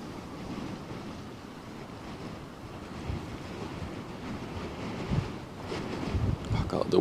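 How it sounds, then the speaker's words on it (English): Strong wind blows at the Westerschelde waterfront in the Netherlands, where big ships pass; a steady, loud, rushing roar buffets the microphone throughout and grows gustier toward the end. "the wind is really nasty right now"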